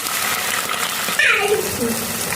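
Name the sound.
water poured into frying spices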